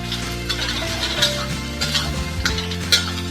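Preserved olive vegetable stir-fried in a wok for minced-meat fried rice, giving a steady close sizzle with scraping spatula strokes and clinks, while soft tonal music plays underneath.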